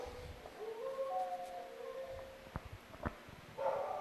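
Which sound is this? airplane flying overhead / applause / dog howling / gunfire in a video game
dog howling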